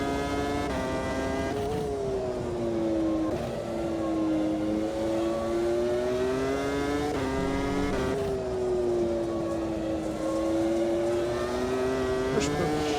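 A 2001 Formula V10 Gen 2 car in Automobilista 2 at Austria, its V10 engine screaming at high revs through continuous upshifts and downshifts, loud and close, with someone talking over it.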